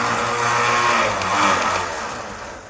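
A winch spools in line with a motor whine that rises and falls across a few seconds, fairly loud and close, with no talking.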